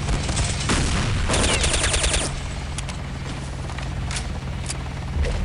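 Gunfire from Counter-Strike: Condition Zero Deleted Scenes rattles in rapid automatic bursts for the first couple of seconds, then thins to scattered, fainter shots.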